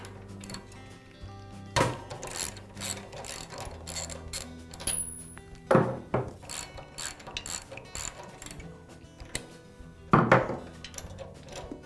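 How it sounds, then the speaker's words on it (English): A socket wrench ratchets while removing a spark plug from a Honda engine, with bursts of clicking pawl sounds alternating with sharp metallic knocks and handling noises, close and alone. "use a socket wrench to remove the spark plug"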